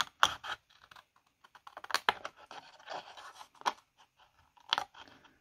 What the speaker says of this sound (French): Alors, on coupe bien droit. Et on coupe tout le reste.